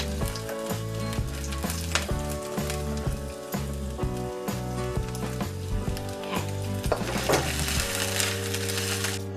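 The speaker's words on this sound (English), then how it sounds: "I'm going to fry my ginger and garlic till they turn a bit brown." Thinly sliced ginger and garlic frying in hot oil for Chinese fried rice, a loud, constant sizzle and crackle running under background music with no speech.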